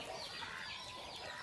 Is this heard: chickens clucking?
yes